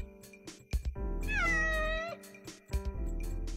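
A cat lets out a long, drawn-out meow that bends in pitch, loud and close, framed by a few short taps and knocks before and after.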